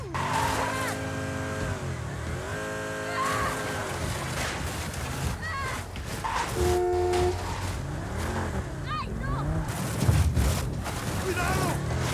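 A car in the video game Just Cause 4 drives and swerves, its engine revving up and down in rising and falling sweeps with occasional tire squeals, while game music and effects play alongside.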